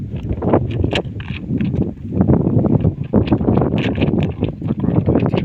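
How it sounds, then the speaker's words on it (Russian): Strong wind buffeting an outdoor microphone, a loud continuous roar with gusting surges and rumbling turbulence throughout. "Такой вот ветер."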